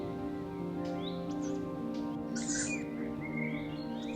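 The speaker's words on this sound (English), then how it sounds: "Both young owlets were calling for food at the edge of the woodland." Young tawny owl owlets at the edge of a woodland give a few rasping, hissing food-begging calls, one louder burst standing out over a steady low hum and faint bird chirps.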